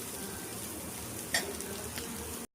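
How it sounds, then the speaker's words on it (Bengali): Chicken sandwich filling gets stirred in a pan, a soft, fairly quiet frying hiss with a single sharper scrape midway, ending abruptly in silence, with no voices. "চলুন এবার সবগুলোকে আবার একসাথে নাড়াচাড়া করি।"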